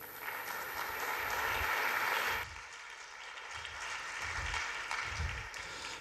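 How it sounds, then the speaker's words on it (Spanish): An audience applauding a speaker at a science talk, a broad wash of clapping that stops abruptly after about two seconds and leaves a quieter room with low rumbles. "Un aplauso para él"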